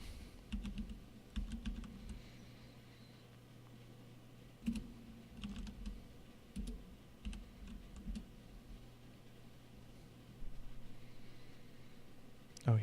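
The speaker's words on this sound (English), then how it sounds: "because I know people enjoy the keyboard sounds." Clicky keystrokes on a computer keyboard in a quiet room, irregular bursts of typing with short pauses, close and fairly soft, no talking.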